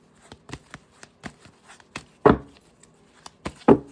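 Tarot cards are drawn and laid down one after another, giving soft papery taps and flicks with two louder slapping placements, close and quiet with no voices.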